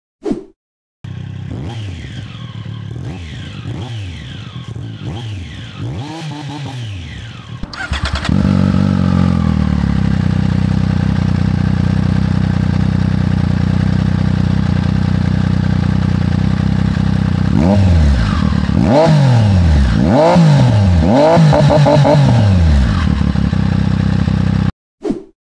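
Triumph Street Triple R motorcycle fitted with a Zard exhaust, revved in repeated sharp bursts, then holding a loud sustained roar, then more rapid throttle blips, very close.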